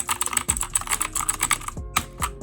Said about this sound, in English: this is the cheapest mechanical keyboard you can get on Amazon